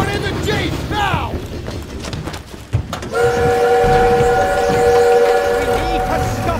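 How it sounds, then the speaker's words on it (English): Train in the Call of Duty WWII video game: a voice shouts over battle noise, then a loud moving train with a long steady whistle and rumbling wheels up close. "We need to stop that train!"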